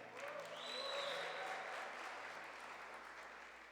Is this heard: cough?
no